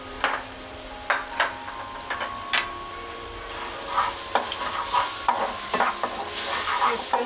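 Mushrooms fry in a pan with turmeric, a low steady sizzle broken by repeated sharp clacks and scrapes of a spoon stirring against the pan, close by with no talking.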